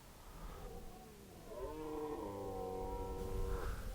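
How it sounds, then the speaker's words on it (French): Red deer stags belling in the autumn rut below, drawn-out groaning roars with a harmonic, moaning tone, heard at a distance through an otherwise quiet evening. "Il y a les cerfs qui brament en dessous."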